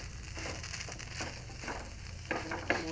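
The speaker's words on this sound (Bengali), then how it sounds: "একটু চেপে চেপে ভাজতে হবে" Food pan-frying with a spatula pressing down on it gives a steady close sizzle, broken by a few scraping knocks near the end.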